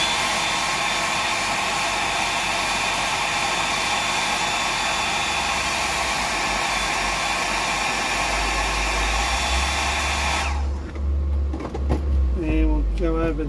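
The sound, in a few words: drying fishing bait with hair dryer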